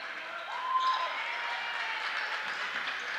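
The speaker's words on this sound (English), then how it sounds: "A little extra applause out of the Redbird faithful" Crowd applause in a high school gym during a girls' basketball game, Metamora vs Pekin: a steady wash of clapping from the stands, with a faint sneaker squeak or whistle-like tone early on.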